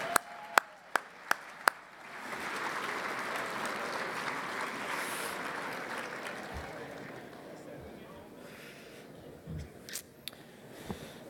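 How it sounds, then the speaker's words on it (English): An audience at an evening event applauds raffle winners with a few seconds of dense, continuous clapping, preceded by a quick row of sharp taps and trailing off into scattered claps and thumps. "Give the winners a round of applause."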